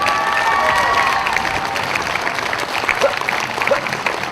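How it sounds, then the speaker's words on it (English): A street audience watching buskers breaks into dense applause, loud and sustained at first then thinning into scattered claps with a few shouts and voices in the crowd. "Now would be a good time to clap."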